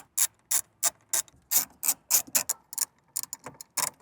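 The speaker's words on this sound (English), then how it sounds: "grab your 10mm, and we are gonna go ahead and put back the 4 10mm bolts we just removed" A hand ratchet runs rapidly and rhythmically as four 10mm bolts go back in behind the climate control panel of a Toyota GR Corolla, with sharp, close clicking bursts and brief pauses between strokes.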